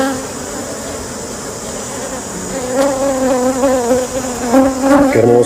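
Honeybees buzz steadily around a queen bee, a dense insect drone that swells louder and closer near the end, with no voices present.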